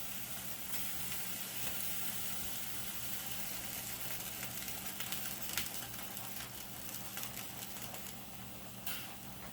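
A pot of kale blanching on the stove gives a steady, close sizzling and bubbling hiss with occasional soft clinks, continuous and fairly even throughout, with no talk.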